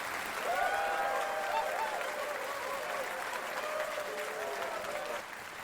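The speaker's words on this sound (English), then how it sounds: "Round of applause for Nombies." Steady applause from a crowd for about five seconds, with a faint tonal sound running underneath, then dropping off at the end.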